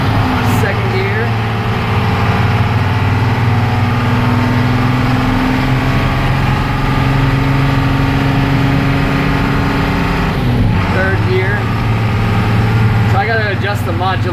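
A Blue Bird school bus with a 7.3 engine drives in second gear, giving a loud, steady diesel drone heard from inside the cab with no break.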